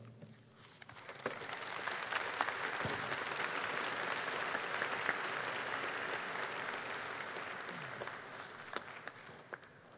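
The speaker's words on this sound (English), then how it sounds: "I want to give Richard and Dan another round of applause." Audience applause after a debate on whether there is a God who speaks, a steady wash of many hands clapping that swells in and holds for several seconds in a hall.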